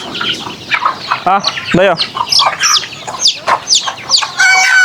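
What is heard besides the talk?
chickens clucking and rooster crowing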